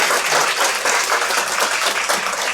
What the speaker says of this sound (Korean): 고성환 총장님 앞으로 모시고 큰 박수 부탁드리겠습니다.